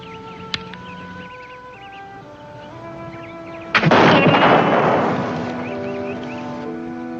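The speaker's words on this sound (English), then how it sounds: "That's fine shooting, Red Sky." A black powder rifle fires outdoors, a single loud blast with a long rolling echo that fades slowly, preceded by quiet birdsong and a faint sharp click.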